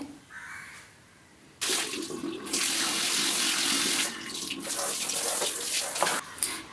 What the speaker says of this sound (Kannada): ಇವಾಗ ನಾವು ಸೋಪ್ ಆಯಿಲ್ ಹಾಕಿ ಇದನ್ನು ಚೆನ್ನಾಗಿ ತೊಳೆದ್ರಾಯ್ತು